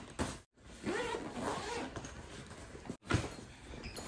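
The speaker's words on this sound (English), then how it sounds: "Right here at the top, the zipper right here in the back." Zipper on a sneaker backpack being drawn open at the top back pocket, a close, continuous scratchy rasp broken by two brief pauses.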